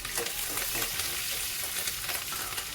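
Chopped green chillies frying in hot oil crackle and sizzle loudly up close, with quick stirring scrapes of a spoon and no speech.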